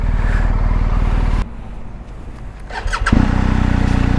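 A 2021 BMW R1250GS Adventure 40 Years of GS Edition motorcycle idles, goes quiet, then cranks and fires back up into a loud, close, steady idle.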